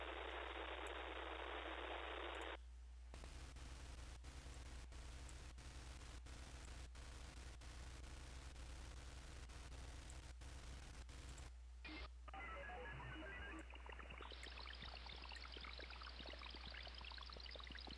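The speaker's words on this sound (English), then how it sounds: "It basically sounds like this when I'm tuned into one of these so-called water droplet channels." A steady hiss of broadband noise with a faint low hum, briefly interrupted by a few short bursts and rhythmic clicks: a spread-spectrum UHF satellite communications transponder signal heard through an Airspy SDR receiver.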